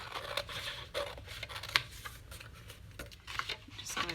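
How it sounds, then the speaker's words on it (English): Scissors cutting through junk mail paper, giving a run of crisp snips and papery rustles in an uneven rhythm, close and fairly quiet, with no talk. "I've got to cut them off one way or the other. Let me just grab scissors"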